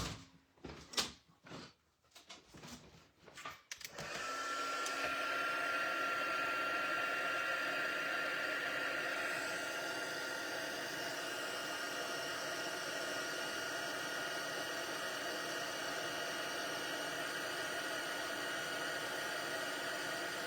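After a few clicks and handling knocks, a heat gun starts up to heat embossing powder on a 5 x 7 greeting card. It then runs as a steady close blowing whoosh with a faint whine, loud and unbroken to the end.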